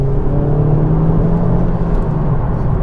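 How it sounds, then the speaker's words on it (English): A Honda Civic Type R GT's exhaust drones in a steady, loud, close hum while driving, with a constant low rumble and no talking. "you've got that wonderful exhaust note"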